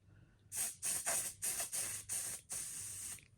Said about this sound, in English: we've got our Prevail sprayer